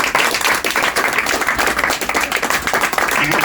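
Dense theatre audience applause for a hypnosis subject at a stage show, steady loud clapping from many hands filling the whole stretch without pause.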